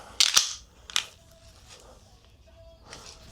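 Gunfire at a shooting range comes as two sharp, loud cracks close together near the start, followed by quieter handling noise and faint background sound.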